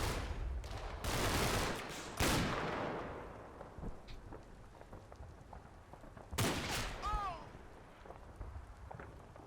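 Gunfire in the video game Combat Mission: Battle for Normandy, several sharp distant bursts and rifle cracks scattered over a quiet background, with soft talk in between.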